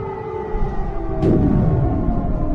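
An air raid siren wails steadily, its tone slowly rising and falling over a low rumbling background.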